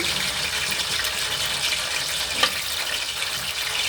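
French fries frying in a small amount of hot cooking oil, giving a steady, dense hiss that fills the whole clip at close range, with one brief louder crackle partway through.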